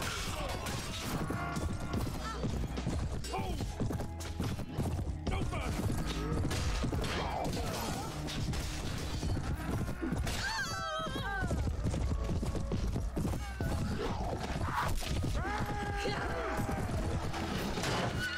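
A horse gallops into battle in the video game Prophesy of Pendor, its hoofbeats buried in a dense, loud din of clashing combat and crowd noise throughout.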